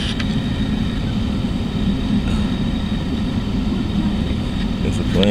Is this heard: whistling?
no